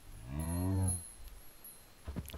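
Buffalo in the Minecraft Totemic mod gives one loud, close, drawn-out moo lasting about a second, followed by faint soft game noises and a few brief clicks.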